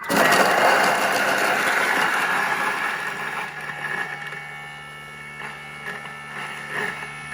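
A Thermomix whirring at speed 7 while mixing a creamy chicken and sun-dried tomato pasta sauce: a loud, steady motor whine that eases off and quiets after a few seconds, with faint clicks later and no talking.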